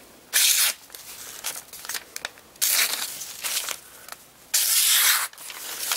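A Reate Horizon-D clone knife slices through material in three loud, hissing, tearing strokes, with quieter crinkling between them.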